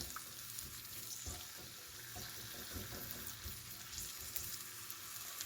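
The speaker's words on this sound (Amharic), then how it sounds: "አሁን ሽንኩርት እንጨምራለን ማለት ነው" Chopped onions fry in a mix of oil and butter, giving a steady, continuous sizzle with crackles throughout and no talk.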